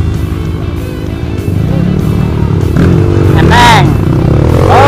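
A new motorcycle engine runs loudly up close on a climbing route during a Stabo charity ride near Bodeh, Pemalang, with a steady rumbling drone that builds slightly. Voices talk over it.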